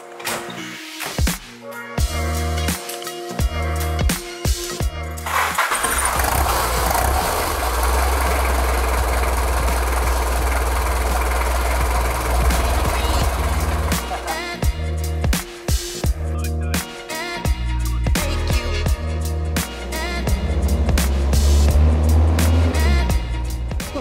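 An old Toyota Land Cruiser diesel engine starts up and then rumbles steadily as it drives on the road, a loud low clattering drone with some knocks and rattles, and no voices.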